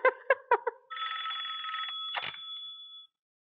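An old-style telephone bell rings in a few quick short bursts, then gives one long sustained ring before cutting off into silence, close and clear with no talk over it.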